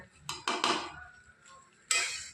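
Rice fry being tossed and mixed in a metal pan: a few quick clanks and scrapes of a spatula against the pan, a short pause, then one more loud scrape, close by in a quiet kitchen.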